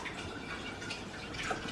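Water is poured into a glass jar for rinsing tomato seeds, making a soft, steady splashing trickle with faint drips, close and quiet, lasting under two seconds.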